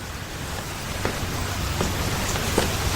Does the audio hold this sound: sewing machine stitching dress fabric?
no